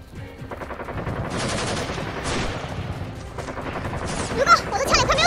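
Rapid gunfire rattles through a comedic shooting-game skit, dense bursts of shots fired continuously and loudly, growing heavier toward the end.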